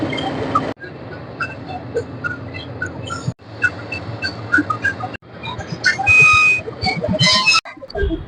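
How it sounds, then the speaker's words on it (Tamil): A whistle sounds at Coonoor station before a Nilgiri Mountain Railway toy train departs: a brief, sharp, high tone rises over busy platform murmur and shuffling, with a few short chirps nearby. "ஒவ்வொரு தடவையும் விசில் அடித்து மக்களை ஏற்றிட்டு இருக்காங்க"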